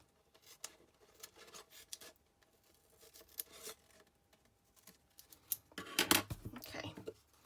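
Scissors trim excess paper from a pyramid treat box, giving a series of soft, close snips and rustles at uneven intervals, with a louder cluster of cuts near the end.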